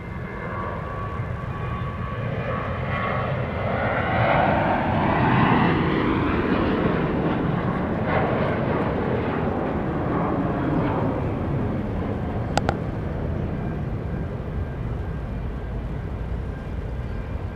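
A Southwest 737 jet, flight 4030, roars loudly and steadily as it takes off from runway 13 right at Dallas Love Field, with broadband engine thunder swelling midway and holding for the rest of the stretch.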